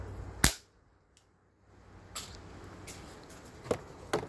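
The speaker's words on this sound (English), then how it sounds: "I'm only going to shoot it once because it bounces back." A 1000 FPS pellet rifle fires once at a brake disc, giving a single sharp crack with a metallic hit, followed by quiet handling noises and a few small clicks and taps.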